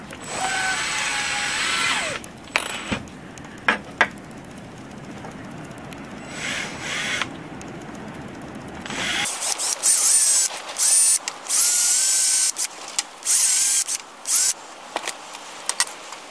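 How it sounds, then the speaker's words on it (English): A power drill fitted with a quarter-inch bit bores a hole into the end of a piece of wood, whirring steadily for several seconds, then running in short, stop-start bursts. "Now I'm going to take a quarter inch drill bit and drill a hole in the end to hold the tinder."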